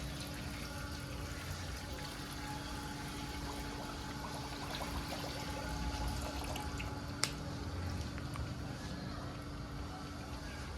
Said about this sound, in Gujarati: હવે આપણે ખાલી આમાં પાણી નાખી દઈશું